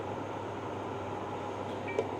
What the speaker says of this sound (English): If you can hear a humming in the background, that's the rice cooking